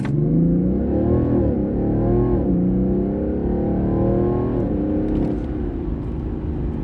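A 2014 BMW 640d Gran Coupé rated at 394 hp accelerates hard during a high-speed highway run, its loud, steady engine drone climbing in pitch with brief dips as gears shift.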